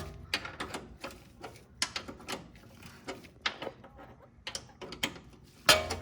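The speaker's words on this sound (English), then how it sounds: "unscrew this 10 mil nut on top" Wrench loosening the brake line nut on a BMW M3 during a stainless steel brake line swap: quick, faint metallic ratcheting clicks and taps in irregular bursts, close by, with no talking.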